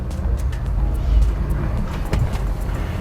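A Honda Pilot's wheels spin on dyno rollers under light power, giving a steady, loud low rumble with faint tyre and roller whir throughout.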